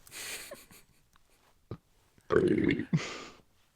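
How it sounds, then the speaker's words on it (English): A loud, gravelly burp rumbles out close by, followed by breathy sounds and a softer second burst, with quiet pauses between. "Even my burp hates it."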